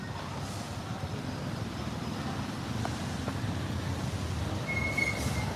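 Metal-on-metal brakes on a Cambodian street give brief, faint squeals that poke above a constant rumble of traffic.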